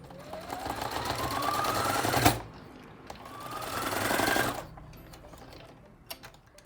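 A sewing machine stitches a strip of lace onto fabric for a child's Easter bunny comforter toy, running in two steady bursts of rapid mechanical whirring with a short pause between, close and alone.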